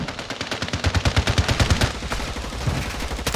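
Call of Duty Modern Warfare II automatic gunfire rattles in a rapid, loud, continuous burst of shots, dense and close throughout.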